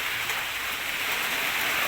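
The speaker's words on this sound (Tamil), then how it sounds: "அண்ணா திருப்பியும் மழை வந்துடுச்சு" Heavy rain pours down in a steady, dense hiss, loud and continuous with no voices.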